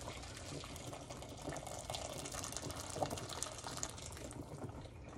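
Boiling water broth pouring into a pot of beef nilaga, a faint continuous rushing and splashing stream with no break.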